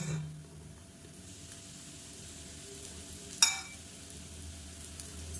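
A crisp millet adai cooks on a pan over medium flame with a soft, constant sizzle and one sharp tap near the middle.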